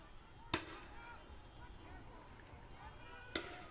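Two sharp fireworks bangs go off at a street protest, spaced a few seconds apart, over a steady low rumble of crowd and helicopter noise.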